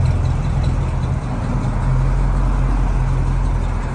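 A 351 V8 engine in a 1970 Ford Mustang Mach 1 idles with a deep, steady rumble and an even low throb, loud and close.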